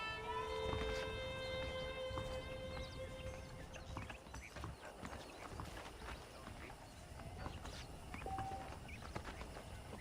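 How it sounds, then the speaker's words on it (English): Saddled horses in the Western video game Red Dead Redemption walk with steady clip-clopping hooves, close and continuous, over low ambient game music with a brief tonal chime early on. "The horses are saddled up over here."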